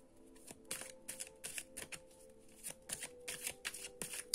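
Oracle cards being shuffled by hand in a quick run of crisp riffling bursts, close and fairly quiet, with no talk.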